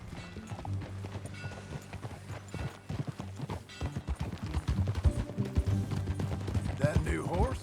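Horse hooves clip-clop steadily at a riding pace in the video game Red Dead Redemption 2, layered over a constant bed of game music with a brief voice-like sound near the end.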